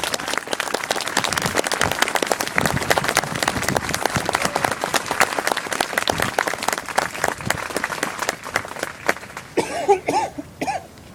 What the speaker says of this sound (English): please join me in a round of applause for our drill instructors and their families